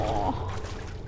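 Brief splash of water pouring in the horror game Amnesia: The Dark Descent, a short close trickle and slosh lasting about a second under a low ambient rumble.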